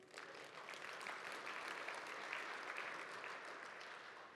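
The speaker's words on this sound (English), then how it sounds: "let's give these guys a round of applause." Sustained applause from a tech conference audience at an opening keynote in Salt Lake City, steady and dense clapping from a large crowd that holds at an even level throughout without any talk.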